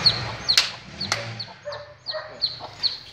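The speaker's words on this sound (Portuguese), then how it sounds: "Esse pinto é seu, Joelson." A small chick peeps repeatedly, with high thin chirps spaced through the few seconds, close and fairly clear, along with a light knock or two.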